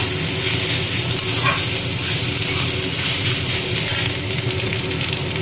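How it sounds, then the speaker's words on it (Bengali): Rice is stirred into fried onions in a hot pan, giving a loud, continuous sizzle with scraping stir sounds, close up and without talk. "এবার আমি দেবো এই ভাতটা, যেটা নাকি আমারই মেন উপকরণ। দেখো এটাকে ভালো করে নাড়িয়ে চাড়িয়ে নেব।"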